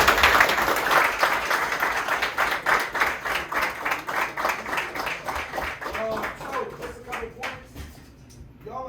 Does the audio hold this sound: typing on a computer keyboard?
no